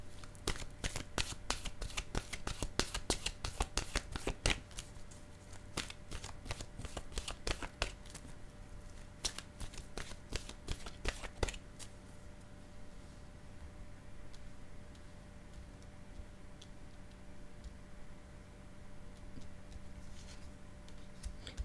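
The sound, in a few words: shuffling a deck of oracle cards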